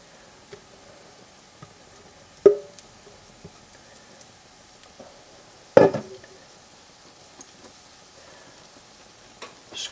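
Food hitting a hot pan and starting to sizzle, a quiet steady crackle broken by a few sharp clanks and scrapes from the pan and utensils, with no talking.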